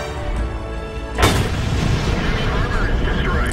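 A tank cannon fires once in World of Tanks, a loud sharp boom that rings out over steady engine rumble, with a faint whistle trailing after it.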